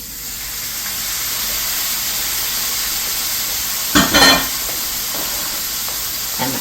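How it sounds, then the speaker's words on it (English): Artichoke hearts and onion sizzle in butter in a pan, a loud, close, continuous frying hiss with a brief burst of stirring or added ingredients midway. "Okay, it's got a nice sizzle going, so I'm going to add my artichoke hearts and my red pepper."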